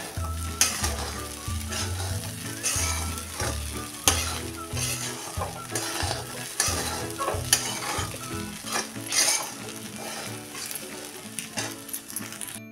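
Sabudana khichdi with steamed potatoes being sautéed and tossed in a pan, a steady sizzle under repeated rhythmic scraping strokes of a spatula against the metal, close and fairly loud throughout.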